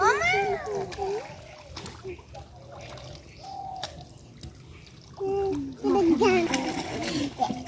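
Water splashes and drips as people bathe at a river ghat in the morning, intermittent sloshing close by under frequent talk and children's voices, with a bird faintly present.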